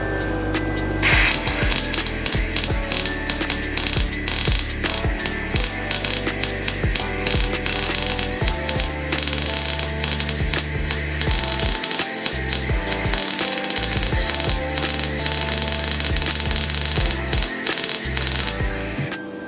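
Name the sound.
MIG welding with shielding gas, popping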